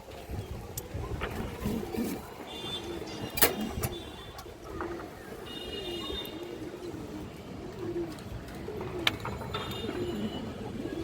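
A large, big-headed male pigeon coos softly in low, repeated phrases against a faint background hum and a few sharp knocks, with no speech.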